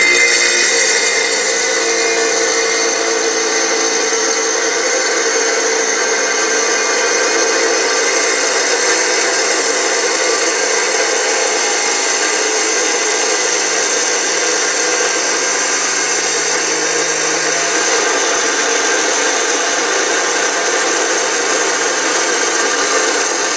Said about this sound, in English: We're going to try to cut this rock and make some slabs that cut across the grain.